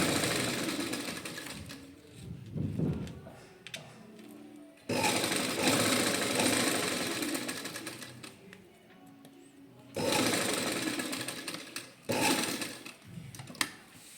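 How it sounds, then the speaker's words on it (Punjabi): A sewing machine runs in three long bursts, stitching a zip onto a suit, each burst a loud, close whirring rattle separated by quieter pauses with handling noises. "ਬਿਲਕੁਲ ਨਾਲ ਨਾਲ ਦੀ ਸਿਉਣ ਲਾਉਣੀ ਜੇ ਜਿਪ ਦੇ ਨਾਲ ਨਾਲ"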